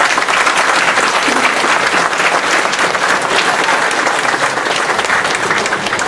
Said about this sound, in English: And give you all, everybody a round of applause.